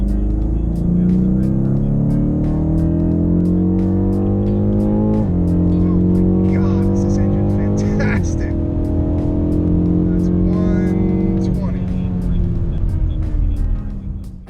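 A BMW M850i xDrive coupe running hot laps on a race track revs hard through repeated upshifts, its V8 engine note climbing and dropping, loud and close from inside the cabin, with a voice talking over it.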